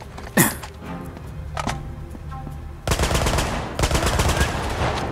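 Bursts of machine-gun fire in an Uncharted Golden Abyss firefight: a few sharp isolated shots first, then two loud, dense rattling volleys in quick succession near the end, close and prominent.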